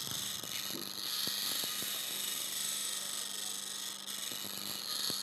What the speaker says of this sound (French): Donc là, maintenant, je vais meuler mon outil.